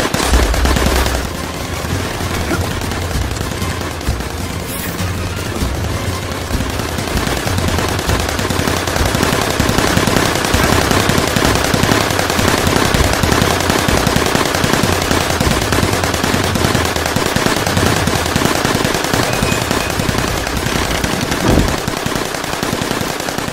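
Sustained automatic gunfire from soldiers in Assassin's Creed Chronicles India, dense rattling bursts over a loud, busy battle mix that keeps going without a break.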